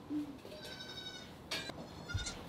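A goat in a barn bleats in a few short wavering calls, close and clear, with faint rustling and thumps between them.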